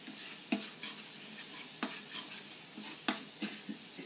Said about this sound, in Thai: แล้วก็คนให้เข้ากันนะคะจนสุกนะคะ